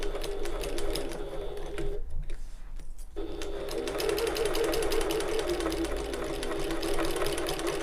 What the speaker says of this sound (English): Everything held in place while we do our nice bit of stitching now